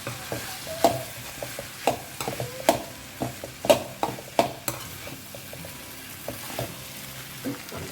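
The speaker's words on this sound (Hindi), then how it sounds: "अब इसमें डालते हैं फ्राई किए हुए भिंडी। अच्छे से मिक्स करें।" Fried okra is stirred into bhaji in a pan, a soft sizzle underneath while the spoon clanks and scrapes against the metal in irregular, distinct strokes, close and alone with no talking.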